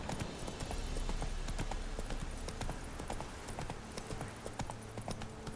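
Horse hooves galloping in The Witcher 3, a rapid, steady clip-clop rhythm throughout, fairly faint beneath game ambience and no talking.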